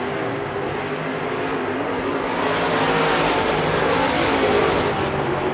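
A sprint race car at Bakersfield Speedway roars down the back straightaway during a heat race. A dense, loud engine wash holds steady throughout and swells slightly toward the end as the car passes close by.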